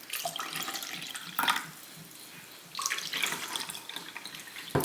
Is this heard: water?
yes